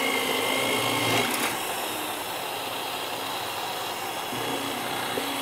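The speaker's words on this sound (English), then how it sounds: "the speed is around 1800 RPM, because that's what is suggested on the side of the drill press for aluminium or aluminum" A drill press running at around 1800 RPM bores into an aluminium T-track, giving a steady, loud, broadband machine whir with a high whine that holds evenly throughout, with no talk.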